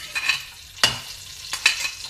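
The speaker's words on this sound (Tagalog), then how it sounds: "Gisahin mo natin ng itong bawang." Garlic sautés in oil for homemade fried rice, a soft sizzle broken by a few sharp scrapes and clacks of a utensil stirring in the pan.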